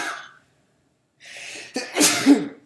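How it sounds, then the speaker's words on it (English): A single sharp sneeze bursts out close to the mic after a short breath and a quiet gap, loud and abrupt with a trailing exhale. "the sneezes hit me"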